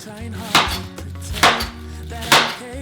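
A knife slices onion and cabbage on a board, with three evenly spaced, sharp chopping thuds standing alone and close.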